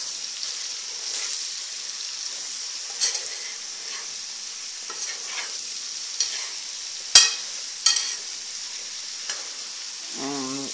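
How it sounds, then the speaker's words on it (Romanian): Carrots and potatoes sizzle steadily while frying in a pan, with occasional scraping strokes and clacks of a utensil stirring them, close and alone with no talk. "Deci, amestecăm un pic cu morcovii și cartofii noștri."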